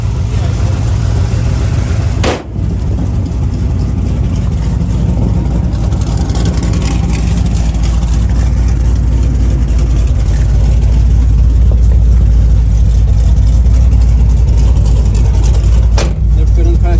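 A 1981 Chevrolet C-10 pickup truck engine idles with a steady, low rumble close by, while people talk over it intermittently.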